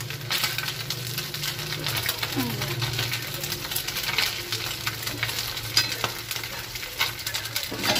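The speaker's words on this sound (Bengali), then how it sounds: "এই যে মোরলা মাছগুলো ভাজছি আমি এখন" Small mola fish fry in a pan with potatoes close at hand, a steady crackling sizzle that runs throughout and is broken by faint stirring scrapes, with no clear talk over it.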